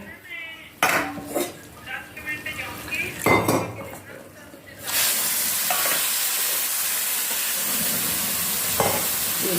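Sugar goes into a pot of desi ghee prasad, and a spoon scrapes and clatters against the metal. Then a steady loud sizzle of hot ghee sets in and holds, with occasional stirring knocks underneath.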